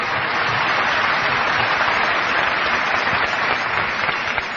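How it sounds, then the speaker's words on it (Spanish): Sustained audience applause from a live studio crowd, steady dense clapping throughout at even loudness with no talk over it. "Hay que aplaudir a Albert Camus"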